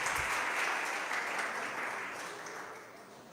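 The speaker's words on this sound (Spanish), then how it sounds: "Denle un aplauso al Señor" A church congregation applauds, steady clapping that starts full and gradually thins toward the end, heard alone with no talking.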